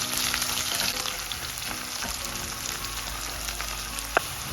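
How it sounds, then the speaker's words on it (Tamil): Shallots sauté in sesame oil on a low flame for a mango seed kuzhambu, producing a dense, even sizzle that stays steady throughout, with a single sharp click just before the end. "இந்த மாதிரி பொன்னிறமாக ஆகிற வரைக்கும் நல்லா சின்ன தீயில் வச்சு வதக்குங்க."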